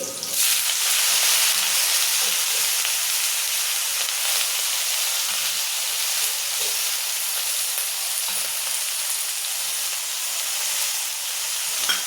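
Fenugreek leaves drop into hot oil with garlic fried until reddish and chillies already sautéed, giving a loud, steady sizzle and frying hiss that holds for the whole stretch with no talking.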